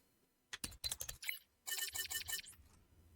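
Fingers typing on a computer keyboard, heard as two quick bursts of close, crisp clicking separated by a short pause, with no voices.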